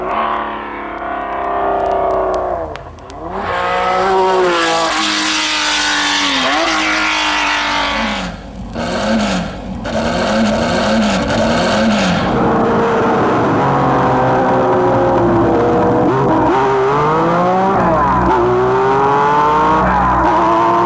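A loud six-cylinder Porsche 906 race car engine revs and howls through repeated gear changes, rising and falling in pitch as the car accelerates and passes close by.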